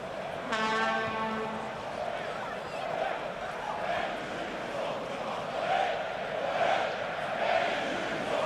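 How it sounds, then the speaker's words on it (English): Spectators at an Under-21 international football match between Germany and Spain in Darmstadt create a sustained, rolling roar with swelling chants, far off and filling the stadium, while a commentator talks over it and a horn blast sounds near the start. "The crowd in Darmstadt getting behind the team, trying to inspire them to some more attacking action in this second half."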